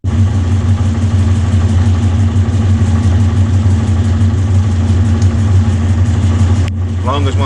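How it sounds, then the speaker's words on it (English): A Victory motorcycle engine runs steadily after an oil change, a loud, close, throbbing idle that holds constant for most of the clip before a brief change near the end. "we're gonna let the bike run for a second"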